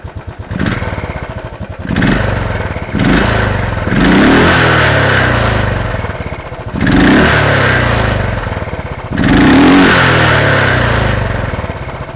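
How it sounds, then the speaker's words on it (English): A Royal Enfield Thunderbird 500X motorcycle engine, close and loud, blipped repeatedly in bursts of revving that rise and fall over a thumping single-cylinder idle, with no talking. "the Thunderbird has a typical Royal Enfield sound which many of you will certainly like"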